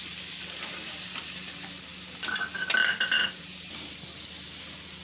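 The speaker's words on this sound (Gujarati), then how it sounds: "હવે આ બધું આપણે કડીક તેલમાં શેડી લે" Vegetables sauté in oil in a pan with a constant crackling sizzle, and a few light metallic scrapes and clinks of stirring come through midway.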